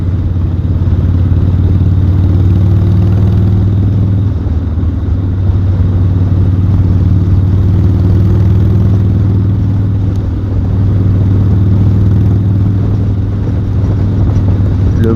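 A 1986 Harley-Davidson 883 engine drones loud and steady while riding, a constant low rumble cruising at low revs with only slight swells.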